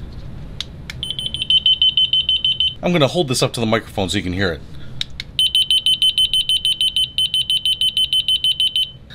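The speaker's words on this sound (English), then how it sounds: "So it does 2 rounds of this high-pitched beeping." A TV remote finder gives a rapid, steady high-pitched electronic beeping in two long bursts, separated by someone speaking close by.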